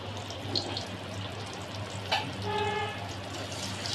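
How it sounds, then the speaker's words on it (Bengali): Pointed gourd (potol) frying in hot oil in a home kitchen, a steady soft sizzle running throughout with a brief clatter and a faint ringing tone partway through. "এবার আমি এই তেলের মধ্যে পটলটা ভেজে নেব।"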